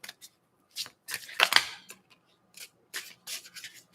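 A deck of tarot cards being shuffled in short riffling bursts, with several quick papery flurries separated by brief pauses, close and crisp, with no voices.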